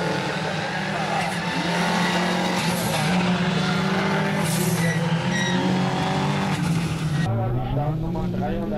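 Rallycross race cars roar at full throttle on a gravel section of a Polish circuit, engines loud and sustained with shifting revs, under continuous commentary.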